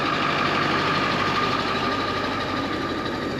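A truck engine idles steadily while warming up before a rolled-over Ford F-150 recovery job, a close, constant mechanical drone with a faint whine that stays even throughout, with no talking.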